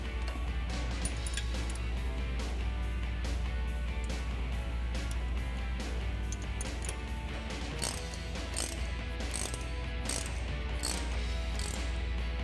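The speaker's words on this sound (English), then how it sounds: "to cinch these down, you're gonna need a 14 mil crescent wrench for the nut here in the bottom, and then we're gonna grab our 6mm Allen key" A wrench and Allen key tighten the nut and button-head bolt of a Teraflex bump stop on a Jeep Wrangler JL, giving a continuous rapid ratcheting click, close and steady, with sharper metallic clicks toward the end and no talk.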